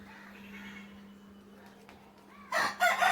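A crow calls at its nest with a couple of loud, harsh caws near the end, after a quiet stretch filled only by a steady low hum.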